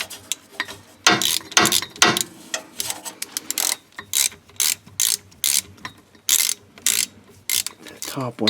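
A ratchet tightens the bolts of a transfer case encoder motor on an S10 Blazer 4WD, giving close, loud bursts of rapid clicking in short repeated strokes with brief pauses between them.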